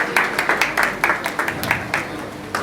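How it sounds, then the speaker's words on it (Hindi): Seminar audience clapping to welcome a speaker to the stage, a moderate round of claps with a clear rhythmic pulse, fairly close and even in loudness. "जोरदार तालियों के साथ उनका स्वागत किया जाए,"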